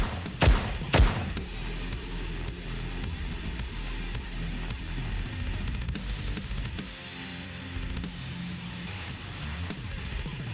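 Gunfire in the game Goddess of Victory: NIKKE, a shootout in a shabby back alley. Two loud, booming shots land close together near the start, followed by a long, lower rumble of continuing fire and debris.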